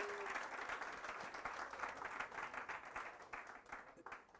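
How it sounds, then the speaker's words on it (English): Audience applause at a workshop on dealing with failure and rejection, a faint but steady crowd clapping throughout with individual claps standing out, heard from a distance. "Please give yourselves a round of applause"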